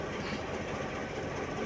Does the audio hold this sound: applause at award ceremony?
no